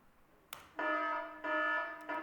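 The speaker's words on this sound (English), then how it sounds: "I have an alarm." Stock alarm sound effect from an iMovie library: a brief click, then a loud, steady electronic ringing tone that sounds in bursts, each cut short and restarted, with no voices.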